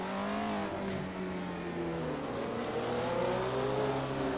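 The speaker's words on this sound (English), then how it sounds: "we just shut up and watch you drive for a lap on board and listen to the beauty of this car" An on-board race car in Assetto Corsa drives a lap, its engine revving up through the gears in steady rising pulls. The engine note is loud and close, and nobody speaks.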